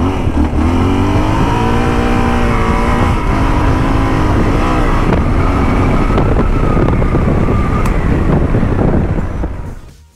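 A ten-year-old used Yamaha Super Tenere 1200 adventure bike under way: a loud, continuous engine drone that rises and falls as the throttle changes, with heavy wind buffeting, fading out at the very end.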